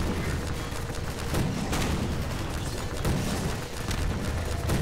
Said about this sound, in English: Let's have the missile launcher thing.